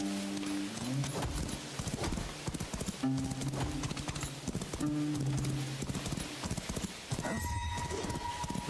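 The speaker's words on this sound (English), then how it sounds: "There's my horse." Hooves clip-clop steadily on a trail beneath layered music in an MMO game, a horse whinnying near the end; the steps stay loud and regular throughout.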